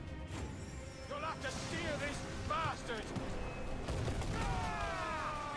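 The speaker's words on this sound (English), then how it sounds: "Firing cannons, okay." Repeated booming cannon blasts and crashing impacts from an Assassin's Creed video game, thick and continuous, with a person talking over the action.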